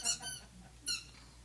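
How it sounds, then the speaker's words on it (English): A squeaker toy is squeezed twice, each press giving a short, bright squeak close by, with a quiet pause between them. "there's a squeaker in it"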